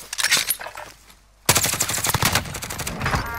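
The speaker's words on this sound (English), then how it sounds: "I'm taking fire." Rapid automatic gunfire in the Warzone video game crackles in dense bursts, breaks off for a brief lull, then resumes as loud, continuous shooting.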